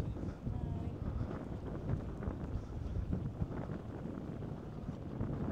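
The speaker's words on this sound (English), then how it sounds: "Always windy, of course, on Portland" Steady wind rushes and buffets the microphone with a low rumble at Portland Harbour, UK, on a sunny day, continuous throughout with no clear voices.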